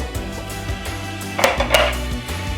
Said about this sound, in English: grab a pan, and I just spread them out on the pan